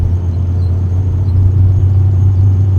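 A van engine drones low and steady on a mountain pass as the driver shifts between second and third gear, a loud close rumble with no talk over it.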